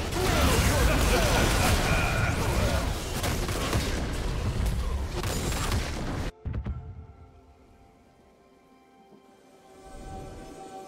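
Rumble's shock rockets ability firing in a video game, a dense loud barrage of booming blasts lasting about six seconds, then cutting off abruptly to a quieter tail of faint mechanical noise.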